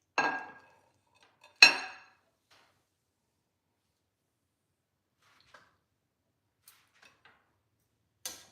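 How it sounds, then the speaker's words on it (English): A knife slices a rested glazed pork tenderloin, with two sharp clattering strikes close by at the start, then near silence broken by a few faint, scattered ticks and a final clink. "Now I'm gonna take one out and cut it. I'm gonna slice her up."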